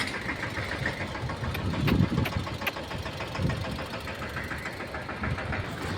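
A Mahindra Massey Ferguson 215 tractor engine idles with a steady, rough knocking rumble, close and continuous for the whole stretch, with no talk over it.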